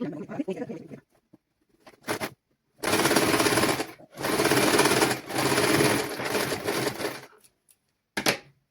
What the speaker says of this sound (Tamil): நார்மலாக நான் தைச்சிட்டு பார்க்கலாம்.